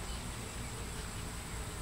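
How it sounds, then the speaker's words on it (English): Bees cluster on the outside of a beehive in the evening, a dense, continuous buzzing hum that stays steady and fairly close throughout. "they're all hanging out for the evening on the outside of the hive"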